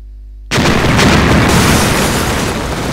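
A grenade goes off in the video game Silent Storm with a sudden loud blast after half a second of near silence, followed by a sustained roaring, rumbling tail of debris that lasts to the end.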